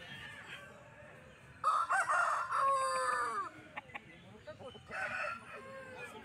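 At a rural West Bengal murga market, a heavy rooster of about 3.5 kilos crows nearby in a long wavering call. A second, shorter crow follows after a pause, with low crowd noise and faint voices around it.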